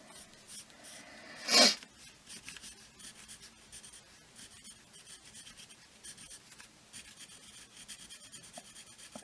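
A pen or marker colouring in a drawing of a church door, with continuous soft scratchy rubbing strokes close by, interrupted once by a brief sharp louder scrape.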